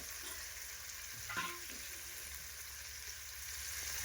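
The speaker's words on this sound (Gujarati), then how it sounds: "તો રીંગણ અંદર નાખવાનું ચાલુ થઈ ગયું છે" Whole eggplants go into a hot frying pot one by one for a Gujarati sev and eggplant curry, giving a faint, steady sizzle with a brief clatter and splash as a piece drops in.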